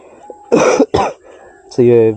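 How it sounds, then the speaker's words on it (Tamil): Two sharp coughs from a person with a cold, close to the microphone, followed by a short voiced throat sound, with quiet background in between. "ஜலதோஷம் வேறு பிடிச்சிருக்கா இருமல் வேறு வருது"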